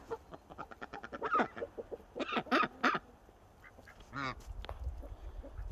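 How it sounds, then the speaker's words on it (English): Geese and ducks call in bursts outdoors: a series of close, loud honks and quacks with short pauses, then a softer scattered quack or two. "Hey, Mama Goose. How you doing, dear"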